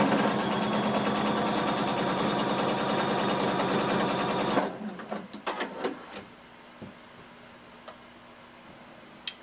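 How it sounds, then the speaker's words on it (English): A sewing machine stitches a seam with a loud, steady, fast rhythmic whir for about four and a half seconds, then stops abruptly, leaving a few faint clicks and handling sounds. "starting at my side seam, I'm going to stitch to meet that other stitching line"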